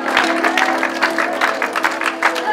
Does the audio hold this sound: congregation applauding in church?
yes